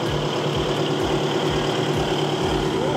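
The Isuzu common-rail diesel in a new SANY SY135C-10 excavator idles steadily, a close, continuous low rumble with an even, throbbing pulse and no talk over it.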